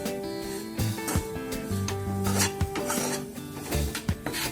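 Gram flour (besan) being stirred and roasted in a pan, with a rhythmic rasping scrape of a spoon against the metal and occasional clinks, close and fairly loud, with no talk.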